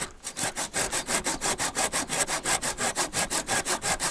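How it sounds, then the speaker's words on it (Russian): A hand saw cuts back and forth through wooden pieces to trim them to equal length, with steady, even rasping strokes at a quick regular rhythm, close and clear with no talking. "Вот это брать сверху и все его подпиливать."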